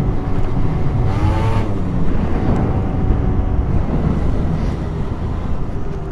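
A Peugeot Speedfight 4 two-stroke fuel-injected scooter is ridden with a steady buzzing engine drone under heavy wind rush, loud and constant throughout with no pauses.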